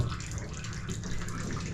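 Water draining from a pan in a ship's engine room, a continuous gushing, splashing flow that stays steady and fairly close for the whole moment.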